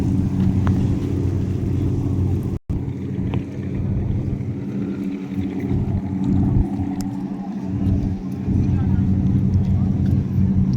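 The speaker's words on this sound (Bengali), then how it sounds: "গাড়ি আরে আসতেছে গাড়ি" In the Maldives, a car comes closer, heard as a steady low rumble that swells slightly over the clip. Wind noise and a voice talking run over it.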